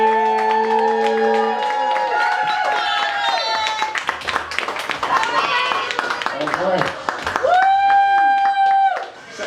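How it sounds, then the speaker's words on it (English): A stand-up comedy audience claps and cheers in a dense, continuous wave of applause, while people shout and talk over it and a loud voice calls out near the end. "Start clapping it up right now."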